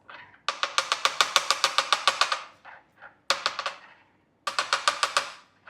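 Jamun shot drink shaken in a shaker, bursts of fast rhythmic rattling clicks in several runs with brief pauses between them, close and clear.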